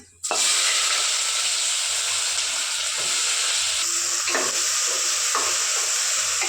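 Shahjeera and onions go into hot oil in a pan for paya curry, setting off a loud, continuous sizzle close up, with occasional stirring scrapes beneath the frying.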